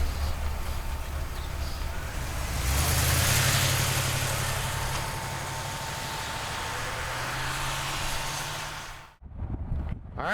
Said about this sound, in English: let's take this Cadillac for a ride